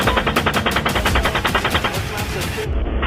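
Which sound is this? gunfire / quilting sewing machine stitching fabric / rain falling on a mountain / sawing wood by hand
gunfire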